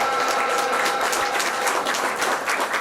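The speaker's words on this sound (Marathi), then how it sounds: "जोरदार टाळ्यामध्ये स्वागत झालं पाहिजे" An audience at a career event on jobs in Japan and Germany gives dense, continuous applause to welcome dignitaries onto the stage, loud and sustained throughout.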